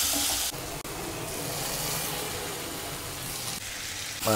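Spices tempering in hot oil in a pan for phodni make a loud, continuous, crackling sizzle from close by, broken by brief dips, with no talking.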